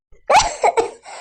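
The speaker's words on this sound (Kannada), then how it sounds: "ನೆಗಡಿ ಕೆಮ್ಮು ಒಂದು ಜಗ್ಗ ಬರಾಕತ್ ಬಿಟ್ಟತಿ" A single short, sharp cough from a cartoon village character suffering from a cold and runny nose, close and loud, breaking into a couple of quick rough bursts.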